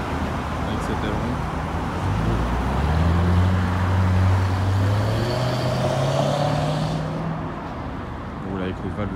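A Range Rover Sport SVR convertible with a rear wing, exhaust valves closed, passes on a Beverly Hills street, its low engine hum rising and falling steadily beneath continuous road noise.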